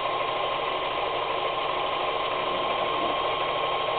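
A longarm quilting machine runs continuously with a steady, even mechanical hum and rapid stitching buzz, close and unbroken, with no talking.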